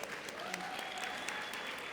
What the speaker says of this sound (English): So let's give them another huge round of applause.